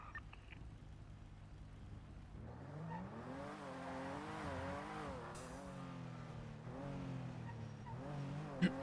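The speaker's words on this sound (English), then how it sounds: "I hear a very loud car above me on the eastern side of Central." A loud car drives overhead on the eastern side of Central in a NoPixel roleplay game, its engine revving up and down in repeated swells, heard faint and somewhat distant with no talking.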